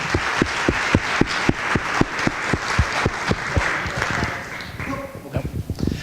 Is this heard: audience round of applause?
yes